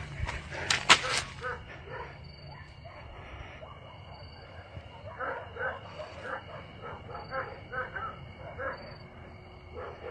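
Dogs bark at night in the countryside, the barks faint and distant and coming in a loose, repeated series under a steady low background hum.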